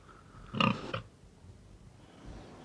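A Tamworth pig on a farm grunts once in a short, fairly close burst, followed by quiet barnyard background.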